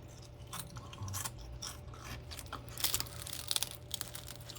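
Someone bites into the crispy flour tortilla top of a frozen birria burrito, giving close, faint crunching and crinkling with a few sharper crunches near the end, no talk.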